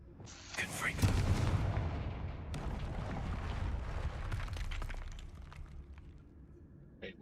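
A Confringo blasting spell in the Hogwarts Legacy video game goes off as a loud, booming explosion that rumbles on for several seconds amid other battle noise, with voices talking over it.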